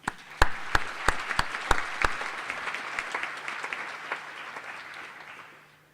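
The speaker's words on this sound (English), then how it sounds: "I think that also deserves a round of applause" A graduation-ceremony audience applauds, with strong, separate claps up close at the start over a dense bed of clapping that slowly thins and fades toward the end.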